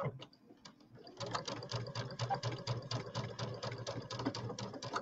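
Sewing machine running steadily through a quarter inch seam on a quilted Halloween bench square, a quiet start then a fast, even mechanical chatter of stitching, with brief talk under it.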